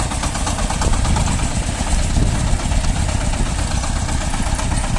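A loud Shifeng SF-240 tractor engine runs steadily on asphalt at a constant rumbling drone, close up, with no talking.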